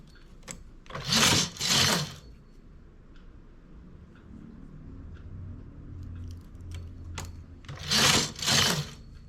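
A domestic knitting machine carriage sweeping across rows, heard as two pairs of quick whirring passes separated by a quiet stretch of faint handling.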